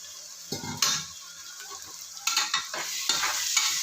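Ginger-garlic and green chilli paste sautés in a hot pan for vegetable biryani, a steady sizzle broken by a few sharp scrapes and clinks of a spoon stirring against the pan, close and alone without talk.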